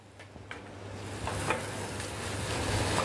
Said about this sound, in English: we want to stir them round, and we want to get a bit of colour on, start to caramelise the onions